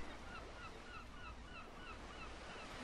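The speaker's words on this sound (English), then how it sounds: "I hear the birds." Geese honk repeatedly over steady surf and wind at the water's edge, a series of calls spread across the clip, moderately distant and partly masked by the broadband wash of waves, with a small tin fishing boat nearby.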